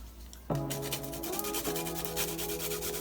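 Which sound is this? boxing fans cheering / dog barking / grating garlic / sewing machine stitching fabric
grating garlic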